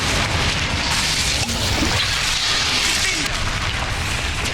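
Explosions from Bombarda or Confringo spells in the video game Hogwarts Legacy: continuous loud, rumbling blasts and crashing bursts that fill the whole stretch, with a voice speaking over them.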